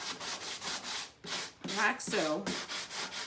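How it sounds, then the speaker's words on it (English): A sanding block rubs back and forth over painted wood to expose silver beneath, a rhythmic scratchy rasp in repeated strokes, near and moderately loud, with a brief spoken phrase partway through. "I'm gonna remove a little bit of this with my sanding block."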